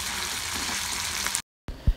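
Mutton sizzles in a pan with curry leaves and green chili, a soft continuous frying hiss that cuts out briefly before resuming with a low utensil knock, close and quiet with no talking.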